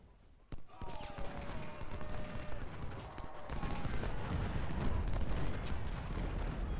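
Canister artillery fire in the Civil War strategy game Ultimate General: Civil War: rattling volleys of gunfire and cannon booms that grow louder and denser as the battle continues.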